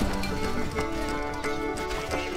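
Horses gallop in the medieval strategy game Stronghold Legends, with continuous clip-clop hoofbeats and a neigh under a full, busy game soundscape and a voice.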